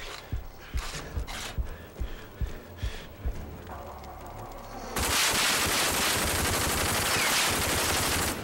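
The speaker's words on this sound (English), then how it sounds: "That's a shotgun." Shotgun blasts from the video game RAGE: a series of punchy shots at the start, then a loud, dense burst of gunfire and noise that fills the rest.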